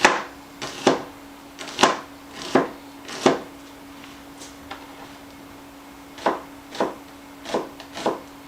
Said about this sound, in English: a half of a shallot thinly sliced